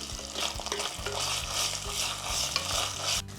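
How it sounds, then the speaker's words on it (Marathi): Ginger-garlic paste sautéing with onion for masale bhat, a dense close sizzle with steady scraping stirs and a brief clatter near the end. "तेही चांगलं परतून घ्यायचं आलं लसूण"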